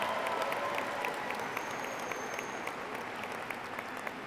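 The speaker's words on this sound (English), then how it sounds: "Let's have a round of applause for our Cougar staff" High school graduation audience claps for the school staff, a steady wash of applause from a large crowd that holds evenly throughout, with a faint whistle-like tone drifting above it.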